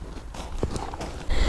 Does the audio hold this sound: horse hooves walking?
yes